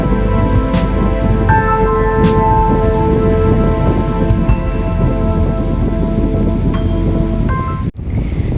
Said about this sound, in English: It's starting to rain again, so the camera might have to go away for a little bit.